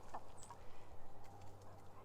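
Soft, scattered chicken clucks and a brief higher call over a steady low hum, fairly quiet and close by.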